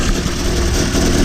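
A Volvo engine fitted with a new Kale Racing crank pulley idles close by with a loud, steady, rumbling drone, alone and unbroken for the whole short stretch.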